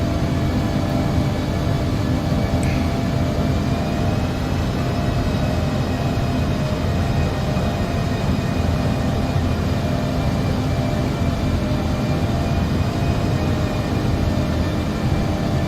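Airliner rolling down the runway in the X-Plane 11 flight simulator, a steady, loud, unbroken engine and rolling rumble with a constant whine running the whole way through, no voices.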